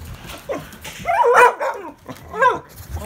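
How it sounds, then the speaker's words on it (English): An Australian Shepherd barks and yips close by in a few sharp bursts with whiny, high-pitched tones between them, over faint room noise. "And here's the dog."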